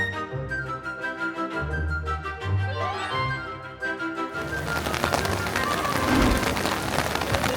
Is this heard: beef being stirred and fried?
no